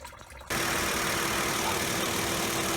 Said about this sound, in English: refill with water and run the engine for a few minutes